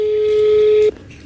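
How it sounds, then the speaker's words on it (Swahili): A phone line gives a steady, loud dialing tone that holds for under a second and then cuts off, leaving faint clicks and a brief knock after it. "Acha tuone kama simu inaita."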